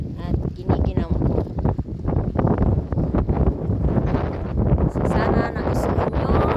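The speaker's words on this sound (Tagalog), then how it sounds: "Dahil medyo lumalakas ang hangin at giniginaw ko." Strong wind out on the water buffets the microphone in a steady, heavy roar that runs throughout, with a person talking over it.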